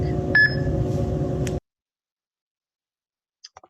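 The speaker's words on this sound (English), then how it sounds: "you'll hear the beep, which is our auditory feedback." A single short electronic beep sounds early over a steady background hum, which cuts off; a few faint ticks follow near the end.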